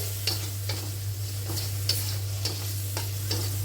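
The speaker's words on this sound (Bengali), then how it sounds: "আগে থেকে ধুয়ে রাখা চিংড়িগুলো দিয়ে দিলাম। মশলার সাথে ভালো করে মিক্স করব।" Washed prawns are stirred into fried spice paste in a pan for a raw jackfruit curry, giving steady scraping strokes about every half second over a constant low hum, with no talking.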